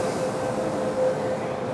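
A Hong Kong train pulls into a station with a steady rolling rumble under a thin, sustained tonal whine, fairly loud and continuous over a short stretch.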